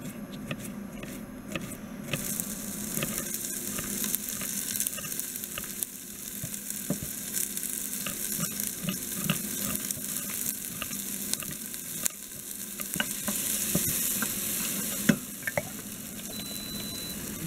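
Sliced onions fry and caramelize in a pan for nettle soup, a steady close hiss and crackle running the whole time with scattered scrapes and light utensil taps.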